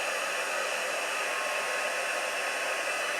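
Hot air streaming from a heat tool with a faulty wire, used on a craft keepsake box. It gives a dense, even whoosh that holds at one level for the whole stretch, close and alone.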